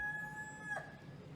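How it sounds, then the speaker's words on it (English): A rooster crows once in a short burst at mid-distance, standing out above a steady low background hum during an outdoor visit in Ghana. "I'm going to call that rooster dinner."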